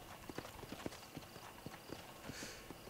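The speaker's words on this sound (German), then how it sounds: "Pferdchen." Horse hooves clip-clop at a steady walking rhythm in the Red Dead Redemption video game, a series of moderately loud, evenly spaced thuds over a soft ambient bed.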